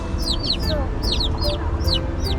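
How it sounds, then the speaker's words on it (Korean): Chicks cheep in quick repeated high chirps, several overlapping calls close by over a busy outdoor background. "엄청 병아리들 길을 잃었나봐"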